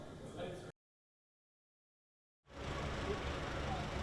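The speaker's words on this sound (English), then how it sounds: "Amid the noise from the Lagos traffic" Lagos street traffic: a steady, dense roar of engines and road noise fills the last second and a half after a silent gap, with a brief burst of sound at the start.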